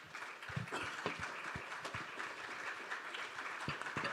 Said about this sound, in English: A warm round of applause for our panel.